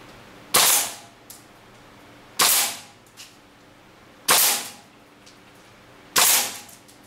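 A WE G39C gas blowback airsoft gun fires four single shots at even intervals of roughly two seconds. Each shot is a sharp, loud crack that tails off briefly.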